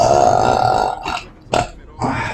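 A long, loud, throaty burp rumbles close for about a second, followed by a couple of shorter bursts.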